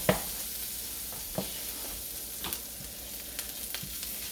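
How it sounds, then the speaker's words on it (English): Garlic browns over lowered heat in a frying pan for a shrimp curry stir-fry, giving a soft, steady sizzle with a few light clicks of stirring, fairly quiet and close. "There's the garlic. And we're just going to brown that up a little bit."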